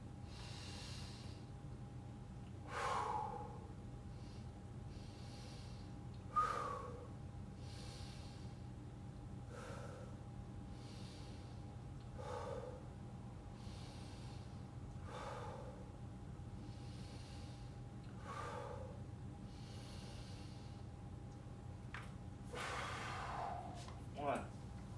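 Slow, deep breaths during a guided breathing exercise, roughly seven soft inhale-exhale cycles spaced a few seconds apart, faint and close against a quiet room hum.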